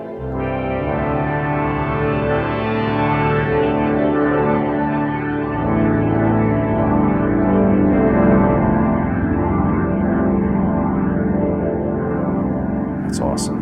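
Novation Summit synthesizer pad with a spacey phasing effect from delay, reverb and chorus, a continuous loud swirling tone sweeping slowly throughout, ending with a brief bright click.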